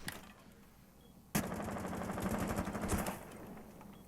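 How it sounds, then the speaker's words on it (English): Automatic gunfire in Rainbow Six Siege is sprayed into a wall, a sudden loud burst that becomes a steady rapid rattle of evenly spaced shots lasting about two seconds before cutting off. "Gonna be returning some fire into the wall."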